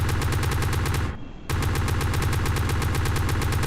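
Aircraft guns fire in a video game with rapid, continuous bursts, loud and close, broken by one brief pause near the one-second mark before the firing resumes.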